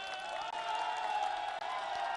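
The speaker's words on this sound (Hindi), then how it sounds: "तालियों के साथ स्वागत कीजिए" Studio audience on a Hindi political debate show clapping in welcome, a soft, even patter of many hands heard fairly faintly from start to finish.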